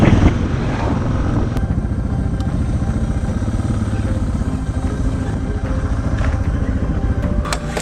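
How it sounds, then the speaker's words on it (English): A motorcycle engine sputtering and losing power, a rough, uneven, close drone with clattering pulses and wind noise throughout, loud and steady. "I needed to pull over because I was losing power, my engine was sputtering"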